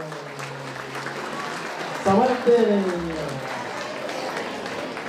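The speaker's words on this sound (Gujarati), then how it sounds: "તાળીઓ વગાડો ને યાર" Applause from the audience at a community get-together prize ceremony, a steady wash of clapping that carries on underneath someone talking over a microphone.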